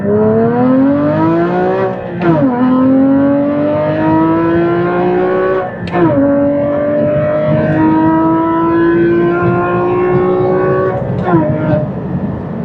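A 2016 Porsche Cayman GT4 with a manual gearbox accelerates hard from inside the cabin, its engine note climbing steadily through three gears with brief dips at each shift, loud and close.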